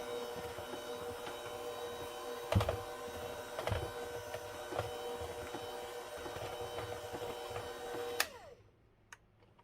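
Electric hand mixer beating cheesecake batter in a kitchen, a steady motor whine with harmonic hum running for about eight seconds, with clacks as the beaters knock against the bowl, then stopping abruptly near the end.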